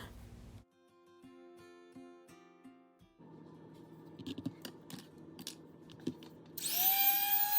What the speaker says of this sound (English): I use my Dremel with the cutting wheel attachment to cut through all of my bamboo pieces.